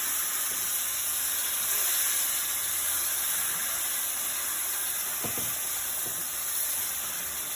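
Homemade fresh tomato sauce poured into toasted rice in a hot pan for Spanish rice gives off a loud, steady sizzling hiss that holds evenly throughout, with no one talking.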